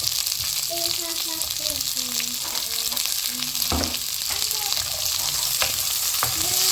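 Small onions and green chillies sautéing in a pan for a mutton intestine curry, a constant hissing sizzle with occasional scraping stirs and a faint voice underneath.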